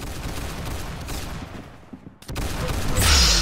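Rapid volleys of gunfire from the Roblox game Arsenal crackle loudly and densely, with a brief pause before another burst of shots.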